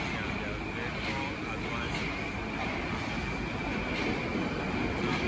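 A Moscow Metro train at a newer station gives off a steady, loud rumbling roar with a high whine, continuous throughout, while someone speaks over it.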